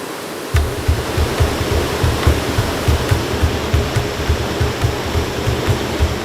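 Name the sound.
waterfall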